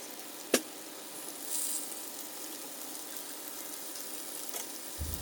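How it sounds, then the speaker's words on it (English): Quiet, steady sizzle of chicken frying in oil, with a faint crackling hiss, one sharp pop near the start and a few soft ticks; no voices. "Ooh, that sizzle sounds so good."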